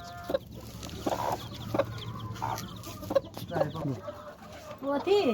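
Local hens cluck and chicks peep repeatedly close by, a busy flock chattering in uneven bursts with faint background noise throughout.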